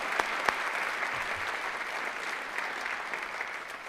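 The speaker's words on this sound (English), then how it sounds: "so let's give them a round of applause." An audience at a city State of the City address in Tacoma applauds steadily for city employees, a dense wash of clapping with a couple of sharper claps near the start, fairly distant.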